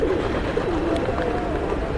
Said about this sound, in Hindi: क्यों सारे कबूतर यहीं पे हैं